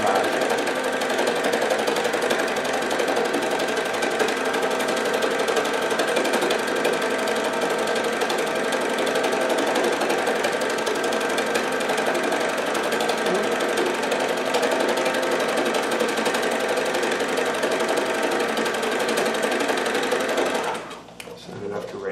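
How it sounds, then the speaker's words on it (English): A needle felting machine motor runs loud and continuous nearby with a rapid mechanical chatter of needles punching, steady for a long stretch before abruptly cutting off. "You hear the sound of the motor change, or the needles change, when you get to a thick bit."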